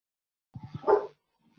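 A dog barks several times up close, three short low woofs followed by a louder yelping bark, then quiet.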